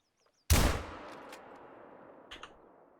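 A single loud rifle shot in theHunter: Call of the Wild, fired at a feral goat, with a sharp crack followed by a long, rolling echo that fades slowly across the open landscape.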